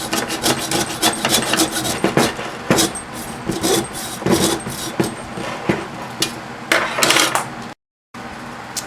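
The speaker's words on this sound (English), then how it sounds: "I'm going to hacksaw through all this copper" Hacksaw cutting through copper wire taken from a microwave oven, steady close rasping strokes in quick rhythm with a brief dropout near the end.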